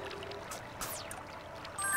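Flowing water effect from the video game BLiNX: The Time Sweeper, a steady wash of pouring, streaming water with a brief brighter surge partway through and faint game tones near the end.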